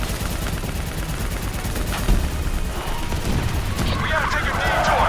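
Rapid gunfire from a first-person shooter video game rattles loudly and continuously in dense bursts, with a sharper rising crackle near the end and voices shouting over the din.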